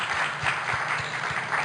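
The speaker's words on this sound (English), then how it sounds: "So give them a round of applause." An audience at a PI conference gives a short burst of applause, a dense steady patter of many hands clapping with no talking over it.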